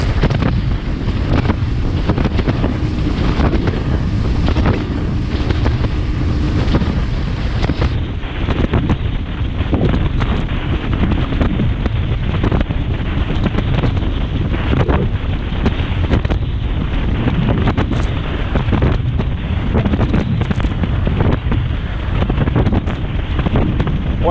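A fishing boat pounds across choppy waves on Lake Harris, with a loud, continuous rush of wind buffeting the microphone over the engine drone and irregular thumps of the hull hitting water.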